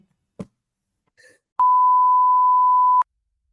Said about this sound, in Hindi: जस्सी को फोन मिलाया, जस्सी ने फोन नहीं उठाया।